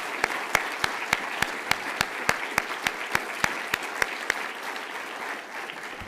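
Applause for award winners at an alumni weekend award and portrait ceremony: a crowd's clapping with one nearby pair of hands striking loud, sharp, evenly spaced claps over the softer wash, the close claps stopping shortly before the end.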